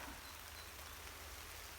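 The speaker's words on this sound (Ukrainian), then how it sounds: "І дощик іде." Light rain falling in a forest, a soft, even patter of drops on leaves and ground, steady and fairly quiet throughout with no talking.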